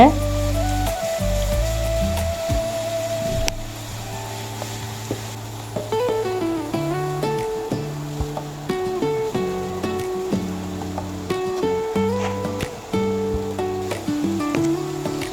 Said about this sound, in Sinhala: අපි මෙන්න මේ විදියට කෙසෙල් මුව ටික රන්වන් පාට වෙනකම් බෙද ගන්නවා